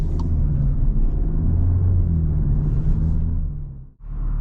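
A 2021 Volkswagen Arteon R accelerates on the Autobahn, heard from inside as a steady, heavy low engine drone that briefly drops out near the end before picking back up, with no talking.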